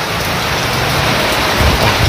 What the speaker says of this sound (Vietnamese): Bên ngoài thì quá mưa rồi, không có đi được cả nhà.